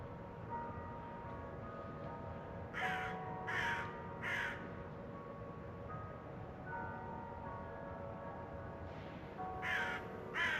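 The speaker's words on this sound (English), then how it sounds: "you could definitely hear that crow" A crow caws three times, then again twice later, clear over a low background rumble with faint ringing bells, on a train and ferry trip from Denmark to Norway.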